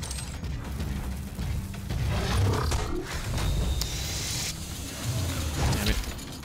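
Mancubus demon roaring in the video game DOOM, a loud, deep roar mixed with mechanical grinding and game combat sounds, continuous for several seconds.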